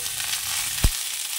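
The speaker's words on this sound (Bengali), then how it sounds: "এবার ফুলকপি আলুটা একটু ভাজে দিচ্ছি" Cauliflower and potato pieces fry in hot oil with a constant bright sizzle, interrupted once by a single dull knock close by.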